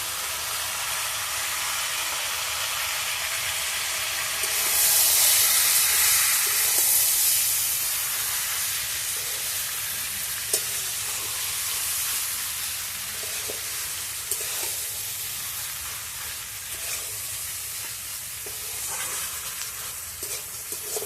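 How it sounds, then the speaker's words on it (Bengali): Fish oil sizzles steadily in a pan with vegetables for a village-style Bengali chhyachra, a continuous close frying hiss that swells louder for a few seconds partway through, with light clinks of stirring and no talk. "আমি এবার মাছের তেলটা ওর মধ্যে দিয়ে দিচ্ছি।"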